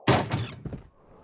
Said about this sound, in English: Here I opened wide the door.